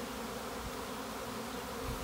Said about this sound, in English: We'll show you a time-lapse video as the bees make their way into the hive.